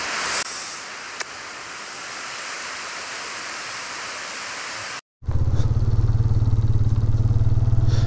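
A waterfall at Manthoka in Skardu runs at full flow with a continuous broadband roar. After a brief dropout the rush returns louder and closer, with a deep rumbling undertone and no talking.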